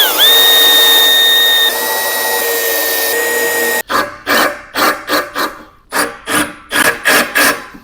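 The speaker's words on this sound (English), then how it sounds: "and again we will drill." A power drill bores into a solid oak pool table during installation: a steady whining run for nearly four seconds, then a string of short, loud rhythmic bursts as the bit bites and releases, close and alone.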